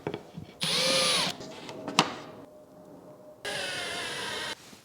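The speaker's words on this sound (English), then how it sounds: "Let's start by mounting it with the most traditional route," A power drill drives regular screws to mount a Gourmetop magnetic knife strip, two loud whining bursts about a second long each, separated by a short pause with light handling noises.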